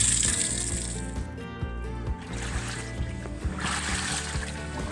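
Water rushing into a washing machine under repair, a steady gushing flow with a low mechanical hum and repeated clunks beneath it, continuous and fairly close.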